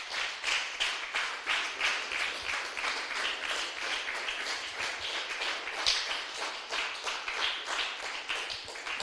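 A church congregation claps loudly and steadily for the Lord during a Spanish-language sermon, dense rhythmic applause sustained throughout at moderate, fairly even volume.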